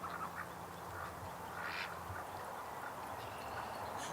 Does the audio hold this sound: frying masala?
no